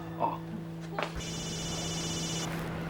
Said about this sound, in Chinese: 你家里打来的电话